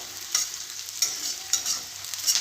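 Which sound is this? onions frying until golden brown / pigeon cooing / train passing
onions frying until golden brown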